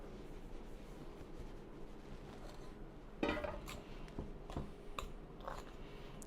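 Dry ingredients for banana fritter batter being stirred in a bowl, soft scraping with a few clinks of a utensil against the bowl, close and fairly quiet.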